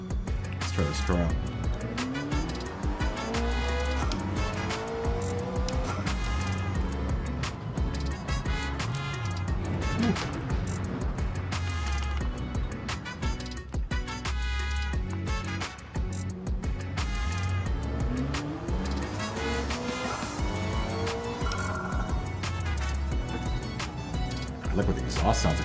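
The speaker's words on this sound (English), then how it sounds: "I like what the exhaust sounds like on this car." A race car engine in Gran Turismo 7 roars and revs continuously with a throaty exhaust note and shifting pitch, accompanied by steady background music.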